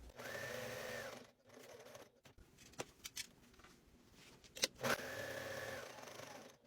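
Sewing machine stitching a pumpkin trick-or-treat bag: two loud, steady bursts of motor whir and needle chatter, split by a quieter stretch of handling clicks and fabric rustle while the presser foot is lifted and the work pivoted.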